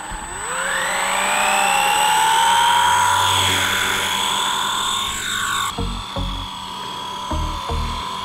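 Blade 150 FX RC helicopter spooling up and lifting off, its small electric motor and rotor whine rising in pitch and holding a steady high hum while hovering nearby, followed by a few soft thumps.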